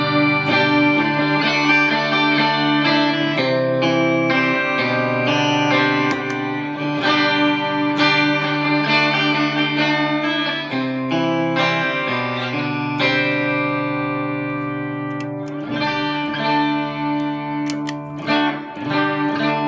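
Guitar played through a Digitech Whammy DT pedal set to octave up, a steady run of loud, bright, pitch-shifted notes and chords with effects coloring, continuing for about twenty seconds with no talking.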